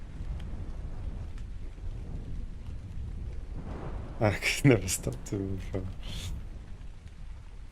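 Steady video-game rain patters with a low rumbling undertone of thunder, while someone talks over it midway.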